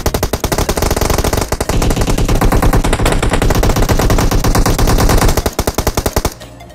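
Rapid automatic gunfire in the shooter game PUBG Mobile, a dense, continuous loud rattle of shots that stops abruptly near the end, followed by a few sparse bursts.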